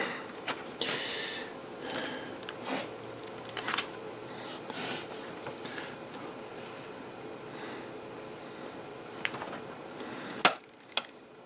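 A wrench works on an Axial RR10 transmission during an upgrade, giving close, light mechanical clicks and creaks at an uneven pace, with a sharper click near the end.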